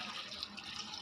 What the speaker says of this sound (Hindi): अब एंड में इसके अंदर हमने पानी डालना है 2 गिलास